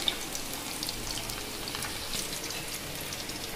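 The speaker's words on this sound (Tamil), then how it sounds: "ஃபிஷ் ஃப்ரை பண்ணிட்டு இருக்கேன்" Fish sizzling steadily as it fries in a pan, a dense, even crackle with fine spitting that holds at a constant level throughout, with no voices.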